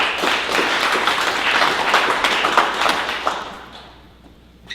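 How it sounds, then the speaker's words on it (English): Audience at a tech startup demo night claps steadily, a full round of applause that fades out toward the end before a brief sound closes it. "Everyone please give Hunter a round of applause."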